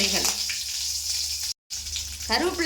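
Mustard seeds with two or three small dried red chillies frying in hot oil, a dense hissing sizzle with faint crackle, broken by a brief cut to silence and a voice at the end.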